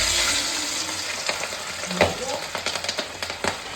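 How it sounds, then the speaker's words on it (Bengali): Fish frying lightly in a pan for a Bengali home meal, a steady close sizzle with scattered crackles and pops, a few louder spits near the middle, no talk. "মাছটা হালকা ভেজে নিয়েছি"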